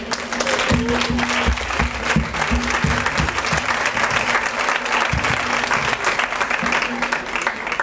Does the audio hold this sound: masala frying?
no